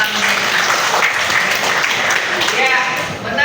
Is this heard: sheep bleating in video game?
no